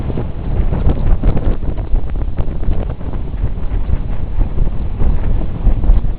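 Strong, gusty wind buffets the microphone aboard a sailboat on Crooked Lake, Florida, in a breeze of about 10 knots. It forms a loud, continuous low roar and rumble with no talking.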